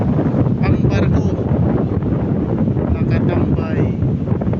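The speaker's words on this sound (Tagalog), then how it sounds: "Sobrang lakas ng hangin" Strong wind buffets the microphone on an island shore by rough sea, a loud continuous broadband roar with gusty swells throughout, and faint voices partly masked beneath it.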